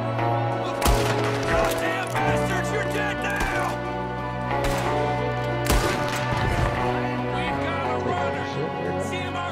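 Gunfire in the video game Red Dead Redemption 2, several sharp loud shots spaced irregularly over a steady musical and ambient bed, with a voice speaking between the shots.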